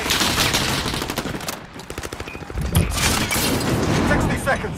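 Hostile gunfire in a video game crackles in dense bursts of rapid automatic shots with a few heavier booms, continuous and loud, while voices talk over the firing.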